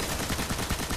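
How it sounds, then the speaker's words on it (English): A quick, loud burst of rapid-fire gunshots from the video game Destiny, with shots packed tightly together in a continuous stutter. "Oh, I'm shooting everywhere."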